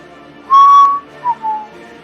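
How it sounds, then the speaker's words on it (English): A person whistles close to a microphone: one sustained bright note, then two shorter dipping notes, clear against a quiet background. "I don't know how whistling sounds into the microphone."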